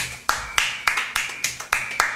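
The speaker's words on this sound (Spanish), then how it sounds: "Un aplauso para él." Sharp, evenly spaced claps ring out about eight times in a steady rhythm, a single pair of hands rather than a crowd.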